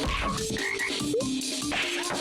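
Frogs croak in the video game Cirno's Perfect Punchout, a dense burst of repeated croaks layered over continuous game music and effects with no talking.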